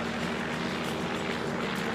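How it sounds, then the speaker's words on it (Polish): Airplanes fly overhead in the driving video game The Crew, heard as a continuous, moderately quiet engine drone with no speech. "Samoloty nad nami latają."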